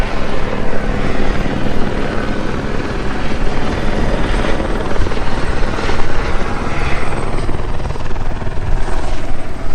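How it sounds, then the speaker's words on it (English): A helicopter collecting water for wildfires thumps steadily and loudly throughout, a constant dense rotor roar with no voices. "you can see the helicopter in the front getting water for the fires"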